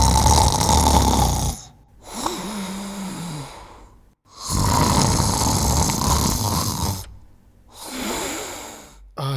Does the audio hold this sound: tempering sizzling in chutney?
no